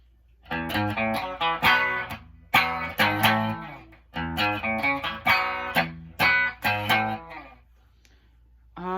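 An electric guitar plays a riff with a crunchy overdriven tone. It comes as loud, rhythmic chord stabs in repeated phrases, then stops into a short quiet tail.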